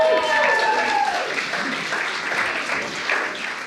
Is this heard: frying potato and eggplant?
no